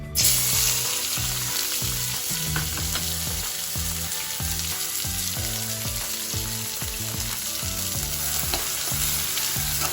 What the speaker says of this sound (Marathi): कांदा लाल होईपर्यंत आपण परतूया